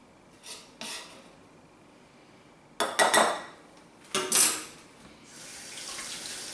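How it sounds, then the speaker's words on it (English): Avocado being crushed in a bowl for smashed avo, a few separate bursts of mashing and scraping against the dish amid quiet pauses, close by. "Give that a bit, crush it up a bit. Crush it up."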